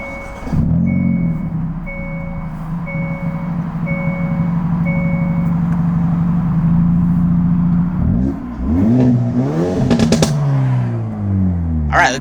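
Hyundai i30 Sedan N engine idling with a steady low drone under intermittent beeps, then revving hard and accelerating near the end in loud rising and falling sweeps.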